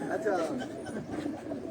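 Pigeons coo softly in a loft in Sialkot, low throaty warbling calls mixed with a voice speaking close by for the brief moment.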